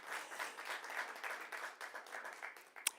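Faint, distant audience applause at a Miss Namibia legacy handover event, steady clapping from a crowd continuing for a few seconds with one sharper clap near the end.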